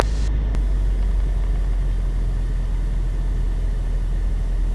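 Steady low droning rumble of a Mooney light aircraft's engine on final approach to land at Twin Oaks, continuous and unbroken, with a brief click near the start and no talking.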